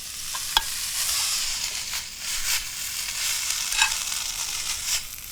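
Fried rice with cabbage sizzles steadily in a hot pan, a continuous close frying hiss broken by a few sharp crackles and scraping stirs, with no one talking.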